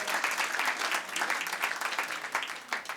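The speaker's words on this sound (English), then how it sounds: "let's give them a round of applause for our new people that are with us" An audience at an evening gathering applauds steadily to welcome newcomers, a dense, even wash of many hands clapping throughout with no break and no one speaking over it.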